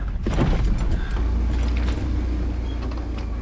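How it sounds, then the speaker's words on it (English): A Jeep JL engine runs rough with a heavy, diesel-like clatter on a mountain trail, producing a steady, loud, low rumble throughout with no talking. "JL is not sounding real good. It's actually starting to sound like an eco diesel"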